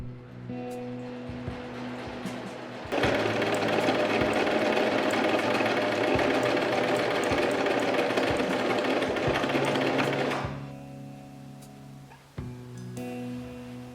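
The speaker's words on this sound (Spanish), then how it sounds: "Empezamos a pasar el pespunte." A sewing machine topstitches a pinafore blouse, its rapid mechanical chatter running steadily at close range for about seven seconds, then stopping, with quiet handling clicks before and after.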